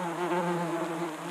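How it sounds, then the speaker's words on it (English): Bees buzz steadily around a flowering Phacelia bee plant on an allotment, a close, continuous insect drone with a rich harmonic hum and no voices. "As you can see, the bees are out in force."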